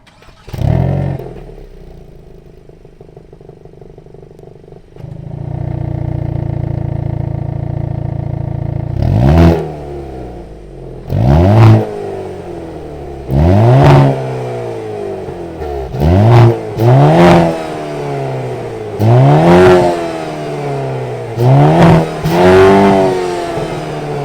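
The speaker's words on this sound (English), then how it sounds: "that was of course the sound of the 2-liter turbo sold by Hyundai for the 2022 Kona N" A 2022 Hyundai Kona N with its 2-liter turbo engine starts up and settles into a steady idle, then gives a series of loud, sharp revs that rise and fall in quick repeated bursts, close to the exhaust.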